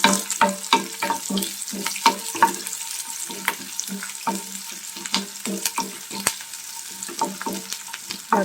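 Thinly sliced onions sizzle in a pan, with frequent sharp scraping and stirring clicks from a utensil running steadily throughout, close and fairly loud.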